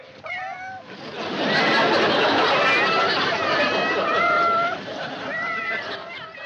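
Several cats meow in overlapping, rising calls over a heap of fish, loud and close above a steady noisy wash with faint splashing, the meows bunching at the start and again near the end.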